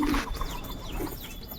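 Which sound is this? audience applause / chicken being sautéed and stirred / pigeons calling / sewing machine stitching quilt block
pigeons calling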